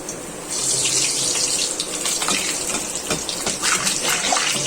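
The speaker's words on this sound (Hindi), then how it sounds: "ऑयल हमने 2 कप हमने ऑयल ले लिया था जो कि गर्म हो चुका है। अब हम इसमें अपनी पूरी डालेंगे।" Pooris dropped into two cups of hot oil over a normal flame, deep-frying with a loud, steady broadband sizzle and bubbling that surges up after a brief quiet start and continues unbroken.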